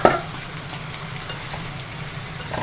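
Broccoli tossed into a hot pan of sautéed aromatics for a meatball stir-fry, landing with a sharp clatter and then a steady crackling sizzle that continues, with a brief stirring scrape near the end.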